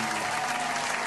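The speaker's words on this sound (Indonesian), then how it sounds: "Tepuk tangan buat Tuhan kita." Applause at a children's church service held online: a short, dense burst of steady clapping, fairly loud and unbroken, with no voices over it.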